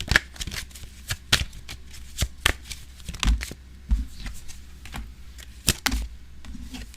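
Tarot cards shuffled by hand, a quick series of crisp riffling snaps and soft slides in an irregular rhythm, close and clear with no talking.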